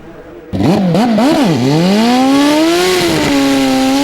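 A Prostar drag racing motorcycle, once Steve Rice's bike, ridden by Chip Ellis, bursts into loud nearby revving with several sharp blips that rise and fall, then settles into a sustained high-pitched engine wail.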